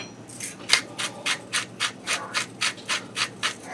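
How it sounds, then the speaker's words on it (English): Salt grinder grinding salt for a casserole, about a dozen evenly spaced gritty crunching twists in a steady rhythm, close and clear with no talking. "so I'll just use it out of the grinder"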